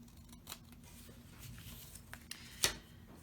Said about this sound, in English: I'm just going to take my scissors and I'm going to even it up a little bit at the sides